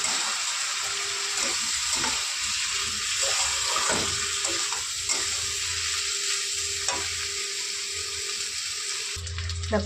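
Dal frying in a pan with grated ginger and cumin powder for vegetarian khichuri, a continuous close sizzle with occasional stirring scrapes and a faint hum underneath, no speech.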